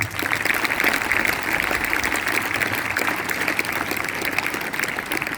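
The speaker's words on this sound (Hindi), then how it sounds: "एक बार जोरदार अपने लिए आप तालियां बजाएं" A school audience claps loudly for itself after monthly test results are announced, a sustained burst of many hands that continues evenly for over five seconds.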